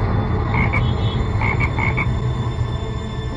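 Several short, nasal frog croaks in quick bursts over a steady background drone of insects or machinery.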